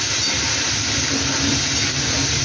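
Cumin seeds sizzle in hot oil for a chital fish belly curry, a steady, close, dense hiss running unbroken through the whole moment with no voices.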